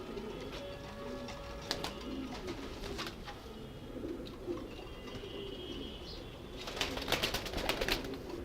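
Breeder pigeons coo in soft, repeated throaty calls at close range, with occasional chirps and brief wing flutters, and a busier cluster of sounds near the end.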